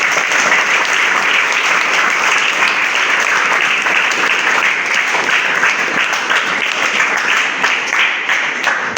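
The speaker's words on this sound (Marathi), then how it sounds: "टाळ्या होत्या." A ceremony audience honouring a retiring school teacher breaks into dense, sustained applause, loud and even from start to finish with no talk over it.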